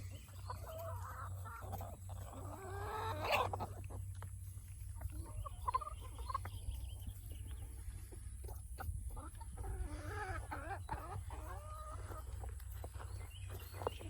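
Barred Rock hens scratch about a raised bed garden, giving soft scattered clucks and murmurs at close range over a steady low background hum.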